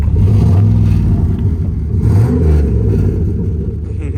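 A deep Chevrolet SS V8 engine rumbles and revs nearby, its low throaty growl swelling and easing over a few seconds.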